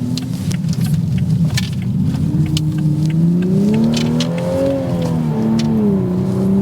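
A 2024 Toyota Supra 3.0 with a six-speed manual, 45th Anniversary edition, drives through a U-turn, its engine note droning steadily and rising and falling in pitch as it accelerates out of the turn, loud and close.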